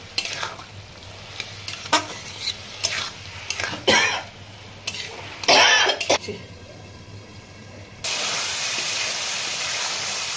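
Water poured into frying masala for chicken keema hisses loudly in the pan, a steady bright sizzle that bursts in near the end after scattered stirring and clattering.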